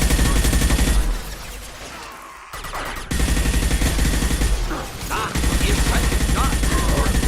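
Rapid, loud gunfire in the video game Mass Effect 2 runs in dense bursts, pauses briefly, then resumes as sustained automatic fire.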